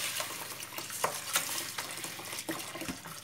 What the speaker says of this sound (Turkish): Öncelikle bunu hemen böyle kaynamış su, tuz ve şöyle suyunu döküyorum.